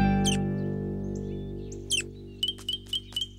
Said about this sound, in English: This little baby bird seems to have fallen out of its nest, Mr. Duck.